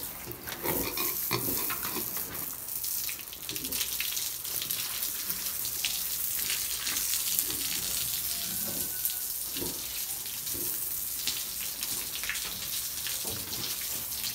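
Pigs being bathed at a rural piggery, with water gushing and splashing steadily for the whole stretch, close and fairly loud, with scattered spattering bursts and occasional faint pig noises beneath, no talk.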